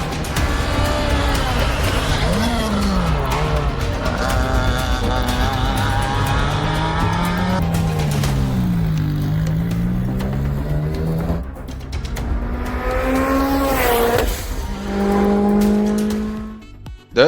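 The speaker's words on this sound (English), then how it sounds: "High quality recordings of real world rally cars and enhanced audio technology truly immerse you in the environment." Rally car engines from real-world recordings in the EA Sports WRC racing game roar continuously, revving up and down through gear changes with rising and falling pitch, close and loud, with occasional tire noise toward the end.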